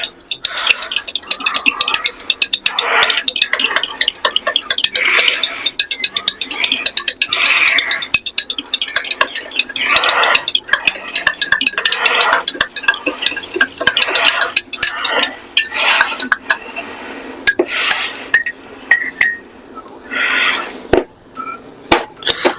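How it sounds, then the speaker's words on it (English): Batter for a homemade cake being mixed in a bowl, with steady clinking and scraping of a utensil against the dish, repeated strokes continuing throughout at close range with only brief pauses. "Now we mix all this together."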